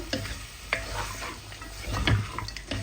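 Chicken and vegetables frying together in a pan, a steady close sizzle broken by a few sharp scrapes and stirs, no voices.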